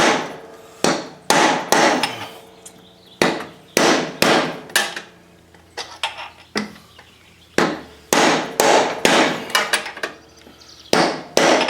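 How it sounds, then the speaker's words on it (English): Sharp metal-on-metal hammer blows drive a socket against a spindle bearing on a Cub Cadet LTX 1050 lawn mower, striking in irregular clusters of two to four loud, close hits separated by short pauses. "Get the right size socket to fit down in there so I can whack it right."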